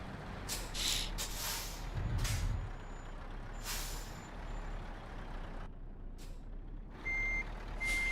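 In Euro Truck Simulator 2, a heavy-haul truck backs up with loud hissing air-brake bursts, and a steady series of high electronic reversing beeps sounds in the later seconds.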